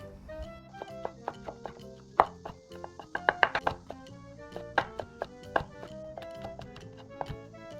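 Knife chopping shiitake mushrooms finely by hand on a cutting board, with rapid, irregular close knocks in quick bursts over light background music.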